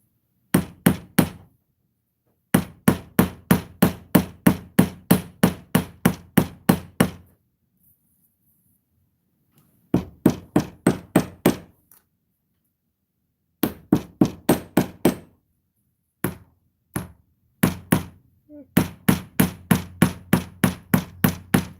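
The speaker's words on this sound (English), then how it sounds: "Let's go whack this with a hammer." Repeated sharp hammer blows on a small solder board struck in quick rhythmic bursts of about a dozen strikes, separated by short pauses, each hit ringing bright and metallic.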